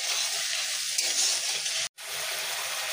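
Spices with salt and turmeric fry in hot oil with a steady, close hiss and crackle that cuts off for a moment before resuming.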